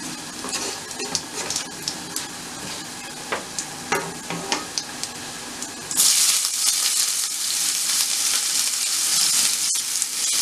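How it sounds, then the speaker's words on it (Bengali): Cumin seeds and chopped onion fry in a pan, starting with a soft sizzle punctuated by stirring scrapes, then jumping to a loud, steady hiss when the onion goes in, with one sharp knock near the end. "এখন পেঁয়াজ কুচিটা একটু ভেজে জাস্ট 1 মিনিটের মতো এটাকে ভেজে নেব"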